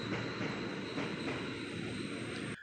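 Steady rumble of a KRL commuter train on the Kampung Bandan via Manggarai line at a station platform with a high tonal whine overhead, continuous and loud, then abruptly cutting off near the end.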